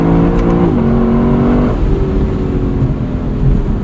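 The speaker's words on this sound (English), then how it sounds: "it'll let you bounce off that rev limiter all day long." A 2024 Lexus LC 500 convertible engine revs hard and loud right up to the rev limiter, holding a high steady note and then a slightly lower one with a brief step, close and unbroken, with no talk over it.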